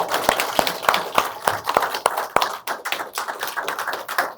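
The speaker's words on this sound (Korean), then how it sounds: "우리 김성묵 감독님 다시 한번 환영의 박수 부탁드리겠습니다" Audience in a Korean screening hall for a Sewol ferry documentary claps to welcome the director, a scattered run of distinct hand claps at an irregular rhythm, moderately loud and close, with no voices.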